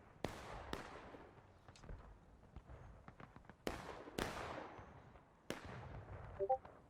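Artillery shells landing during a 150-player Civil War-style video game battle, several sharp distant booms with rumbling decay spaced a second or two apart, plus scattered fainter pops in between.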